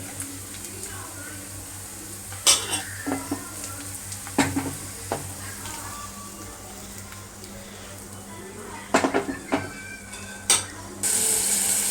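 Onion, tomato, green chilli and ginger-garlic masala sizzles and fries in a pan for mutton curry while being stirred, with repeated scraping clanks of the spoon against the vessel throughout.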